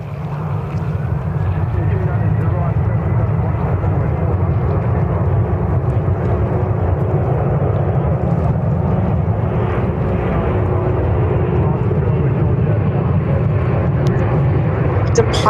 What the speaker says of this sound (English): Departing, we have Delta Airlines Flight 253 headed to Bogota.